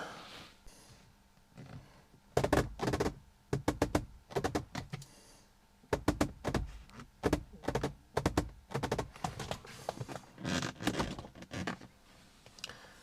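A wooden dashboard in a Rolls-Royce Silver Spirit creaks and clicks in quick irregular clusters as it is handled, the small dry snaps close and fairly quiet against a calm background.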